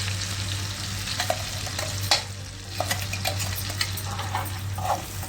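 A spoon scrapes and stirs in a pan as powdered cashew sugar is worked into butterscotch pudding over low sizzling heat, with soft irregular clinks over a steady cooking hiss and hum.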